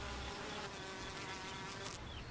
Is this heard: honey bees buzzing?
yes